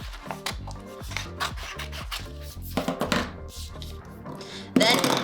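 Scissors snipping and rubbing through a sheet of transfer tape for Cricut vinyl, a quick series of close crisp cuts and scraping strokes ending in a brighter rustle of tape.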